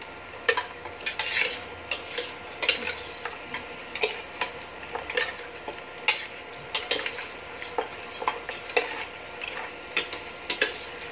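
Pork ribs rendering their own fat are stirred in a pan, a utensil scraping and clinking against the metal in steady rhythmic strokes, close and fairly loud, with a light sizzle underneath and no talking.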